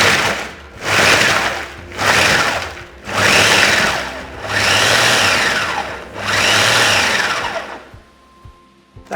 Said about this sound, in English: Put it in your food processor and give it a couple of bursts until everything is mixed together